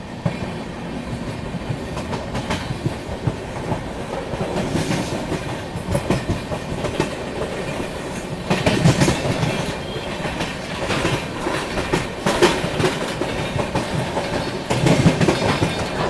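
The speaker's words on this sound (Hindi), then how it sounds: "क्या ट्रैक साउंड आ रहा है।" Wheels of the Northeast Express train in India clatter rhythmically over rail joints in a continuous, loud rumble, with periodic heavier clacks as carriages roll past nearby.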